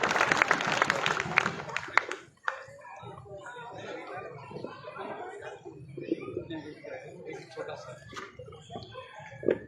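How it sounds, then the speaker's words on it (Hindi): Audience applause at an Urdu poetry gathering (mushaira) for Professor Abdul Rashid Shah, a dense burst of clapping for the first two seconds that fades into crowd murmur and talking. "एक बार जोरदार तालियां शाह साहब के लिए।"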